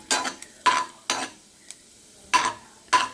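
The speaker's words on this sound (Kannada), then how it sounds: "ಬಿಳಿ ಎಳ್ಳು ಒಂದು ಸ್ವಲ್ಪ ಓಂಕಾಳು ಹಾಕ್ತಾಯಿದ್ದೀನಿ ಹಾಕ್ಬಿಟ್ಟು ಚೆನ್ನಾಗಿ ಹುರ್ಕೋಬೇಕು ನೋಡಿ ಹುರಿತಾಯಿದ್ದೀನಿ" White sesame and carom seeds roasting in a pan, heard as short bursts of stirring and scraping with light sizzle, about six distinct strokes separated by quiet gaps, close and without speech.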